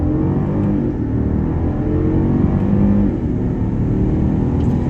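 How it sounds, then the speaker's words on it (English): A 2013 Mercedes S550 accelerates, its engine a loud, steady low rumble and whir heard close from inside the car for several seconds. "Let's go ahead and hit the gas."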